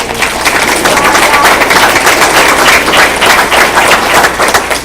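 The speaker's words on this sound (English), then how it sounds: "So let's give a round of applause to the coaches." Applause rises for the coaches at a Muhlenberg school board meeting, a steady, loud wash of many hands clapping through the room with no talk over it.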